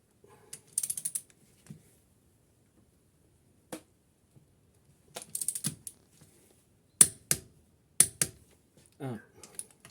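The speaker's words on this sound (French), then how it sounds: "Et maintenant on va serrer tout ça au couple" A torque wrench clicks and ratchets in short, separate bursts as it tightens the cylinder head bolts of a Triumph Spitfire MK3. The clicks sound close in a quiet workshop, with a few faint voices between them.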